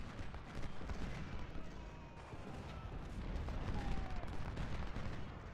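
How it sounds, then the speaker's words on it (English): Musket volleys and artillery fire from Ultimate General: Civil War form a dense, continuous crackle and rumble of massed gunfire, sustained throughout. "Hamlin gets a volley and all he can do is respond against some skirmishers."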